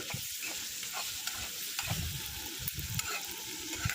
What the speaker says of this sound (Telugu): ఆనియన్స్ వేగిపోయిన తర్వాత తోటకూర అయితే వేసేసుకున్నాను.